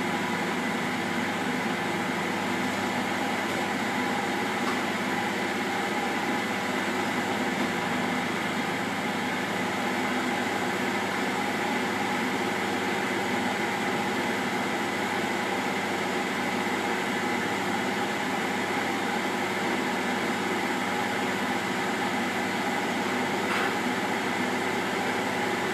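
A kitchen robot whisks egg whites with sugar for a hazelnut and blueberry cake. Its motor gives a constant, even whirring hum with no breaks for the whole stretch, fairly close.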